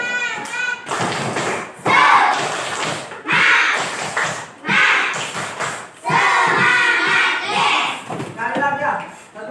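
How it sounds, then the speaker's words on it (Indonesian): A classroom of children performs the rhythmic 'tepuk semangat' spirit clap, sharp thumping claps in bursts alternating with loud chanted voices, close and energetic throughout. "Ayo coba tepuk semangat"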